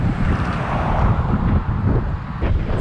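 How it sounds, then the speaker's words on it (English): Strong wind roars steadily against the microphone in a windstorm on a street at dusk, with blowing sand and a faint hint of road traffic, loud and unbroken throughout. "It's like a windstorm's kicking up."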